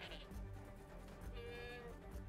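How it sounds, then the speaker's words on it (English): A sheep in a video game bleats repeatedly while being struck, the cries fairly faint over a low background, with no speech over them. "Someone's smacking a sheep."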